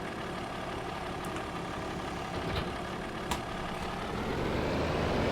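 A small Kortrite tractor engine labors under load while pulling, a steady, loud, rough drone that holds without letup, with a few faint knocks over it.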